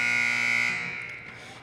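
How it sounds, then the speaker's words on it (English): A loud, sustained electronic horn blares to end the first period of a high school hockey game, then fades into the arena ambience. "there's the final buzzer as the first period expires"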